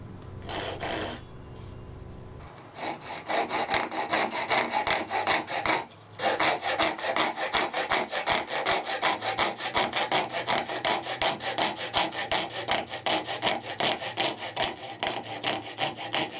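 Steady, rhythmic hand sawing through wood while cutting dovetail joints for a guitar, rasping back-and-forth strokes close and loud for most of the stretch, with a brief pause partway and a different scraping sound at the start.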